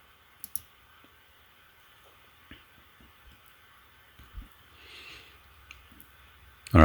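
A computer mouse clicks a few times in a quiet room, sharp isolated taps, with faint background noise and a loud burst at the very end.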